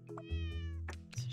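A single cat meow sounds from the puzzle video game Cats Organized Neatly. The cry is short, clear and tonal, with a rising-then-falling pitch, heard up close on its own.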